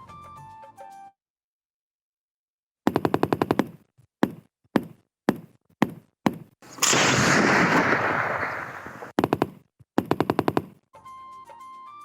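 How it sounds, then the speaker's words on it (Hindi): Heavy weapons fire in bursts outdoors, sharp loud volleys of repeated shots, then a long sustained rattling barrage, with brief gaps of quiet between strings of fire and a faint tone at the start and end. "वीडियो में देखा जा सकता है कि डाकू भारी असलहे से फायरिंग कर रहे हैं।"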